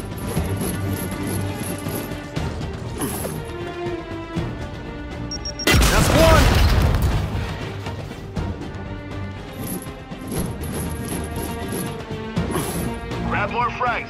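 Frag grenade blast in Gears 5, one loud, close crashing explosion with a rumbling tail in the middle, surrounded by game effects and speech.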